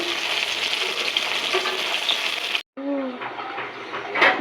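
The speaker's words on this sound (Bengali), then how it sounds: "এখানে রুই মাছ ভাজা করতেছি একটু" Rohu fish frying in a pan, a steady close sizzle that breaks off briefly and then resumes a little quieter.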